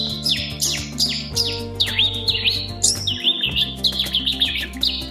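A man imitates chirping birds with his voice, giving rapid, high, sweeping whistled tweets and trills in quick succession. The mimicked song sounds close and clear, with varied calls and no spoken words.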